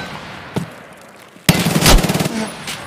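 Vector gunfire in Escape From Tarkov, a single sharp shot followed by a very rapid, loud burst of automatic fire lasting about a second, then a fading echo.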